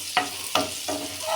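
Garlic fries in a pan for white sauce pasta, a low steady sizzle with three quick stirring scrapes close by.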